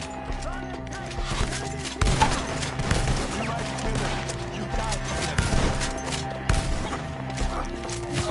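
A sustained gunfight in Red Dead Redemption 2, with dense volleys of rifle and pistol shots cracking near and far, and occasional voices shouting over them.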